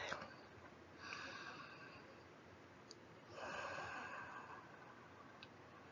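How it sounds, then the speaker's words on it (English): Slow, deep breaths during a guided healing meditation: soft, airy inhales and exhales repeat in a quiet room, faint and unhurried. "I want you to take a deep, deep breath."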